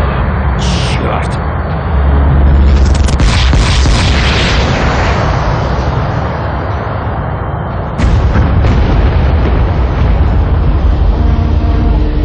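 A ship blows up in the Aliens versus Predator video game: heavy booming blasts roll out in two big waves, with a deep rumbling aftershock between them and a radio voice shouting over the noise.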